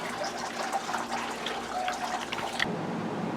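Water trickles and splashes from a mister pump line whose pump runs without pumping properly, a steady close dribbling wash that cuts off abruptly near the end.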